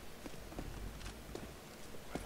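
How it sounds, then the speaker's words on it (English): Soft, uneven footsteps in Counter-Strike: Global Offensive thud at a steady walking pace over a low background hum, faint and fairly close, with no talking. "I hear footsteps, too, but I don't see anybody."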